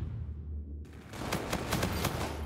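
A quick automatic burst in Call of Duty: Infinite Warfare, several sharp close shots fired in fast succession after a short lull of low game noise.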